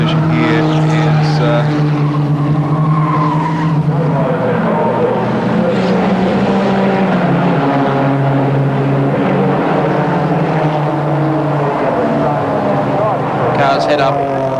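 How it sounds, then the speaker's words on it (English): 1987 Mitsubishi Starion production touring race cars run hard on a racetrack, their engines a loud, continuous drone of rising and falling tones as the cars pass close by. "KB in the Bridgestone Starion, car number 9."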